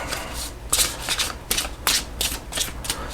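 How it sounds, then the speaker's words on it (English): Thick cardstock tarot deck being overhand shuffled, giving a steady run of crisp papery slaps and rustles in quick uneven bursts, close and fairly loud with no talking. "So it overhand shuffles nicely"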